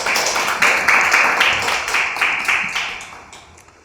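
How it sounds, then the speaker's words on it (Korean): Applause welcoming a speaker at a National Assembly forum, a brief burst of clapping from an indoor audience that peaks early and then fades away over a few seconds. "큰 박수로 맞이해주십시오"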